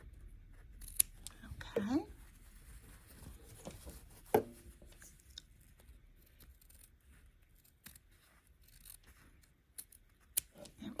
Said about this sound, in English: You can do it with your scissors.